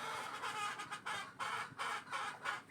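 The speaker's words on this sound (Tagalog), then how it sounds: "mga manok na iniwanan namin sa bagong ginawang kulungan" Soft, muffled clucking from several chickens in a newly built coop, short uneven bursts, fairly faint and close, with no voices.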